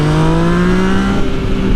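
A Yamaha MT-09 motorcycle fitted with a LeoVince full exhaust system revs loudly and close, its steady raspy engine tone rising slightly in pitch across a brief, continuous burst.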